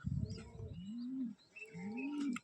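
A male Giribaz pigeon coos twice, each a low rising-and-falling call close by, with a short pause between and faint background noise.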